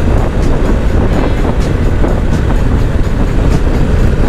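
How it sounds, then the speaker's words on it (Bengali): A metro train runs along an elevated track beside an expressway, a loud, continuous rumbling roar with faint rhythmic clatter, heard from close by. "মেট্রো চলে যাচ্ছে এখান থেকে বরানগর হয়ে"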